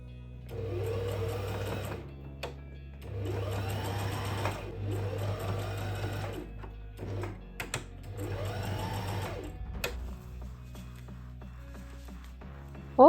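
A sewing machine stitches a seam on a leather trench coat pocket facing, running in three steady bursts of a few seconds each with short pauses between, close and fairly loud with no talking.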